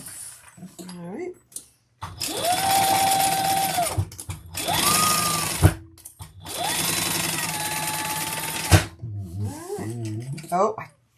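Sewing machine stitching leather in three sustained, whirring runs separated by short pauses, with a person talking before and after the stitching.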